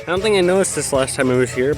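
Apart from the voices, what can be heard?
No everyday noises stand out.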